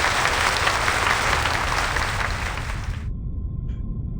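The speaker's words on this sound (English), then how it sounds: "The applause stops." Applause in the Reverse 1999 video game, a dense wash of clapping that holds steady for about three seconds and then cuts off abruptly, leaving near silence with a faint tone.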